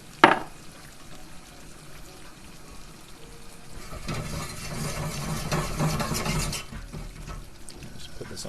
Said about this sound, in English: A little bit of just straight water in here too.